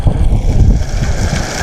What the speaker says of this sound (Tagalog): Grabing hangin mga lodi.